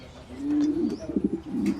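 Pigeons coo at a pigeon farm where black Pomeranian pigeons are kept, a warm low rolling coo with several pulsing phrases, close and moderately loud, with faint higher chirps behind.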